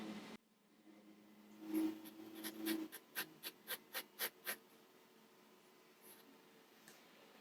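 A pencil sweeps across paper in quiet, close scratching strokes, first two longer drags and then a quick, even run of short strokes before the sound fades to near silence.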